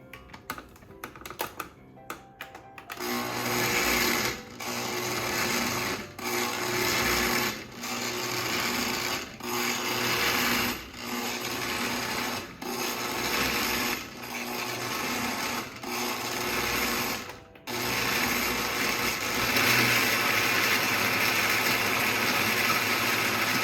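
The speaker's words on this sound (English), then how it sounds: "I'm going to use a little bit of this soaking water to get this to move in the blender" A blender churns chunky red and yellow curry paste ingredients with a splash of soaking water, a steady close grinding whir broken by brief pauses and pulses, running loud without talk.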